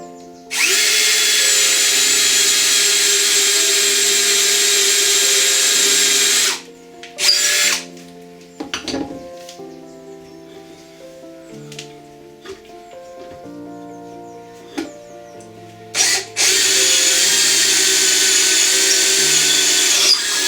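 Power drill boring a hole for a stick chair in wood, running loud and steady in two long bursts at the start and end, with quieter handling and knocks between.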